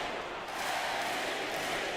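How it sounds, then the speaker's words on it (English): Loud basketball arena crowd during an NBA free throw, a dense, steady roar of cheering voices filling the space without a break. "I hope you can hear me over the crowd because they are loud"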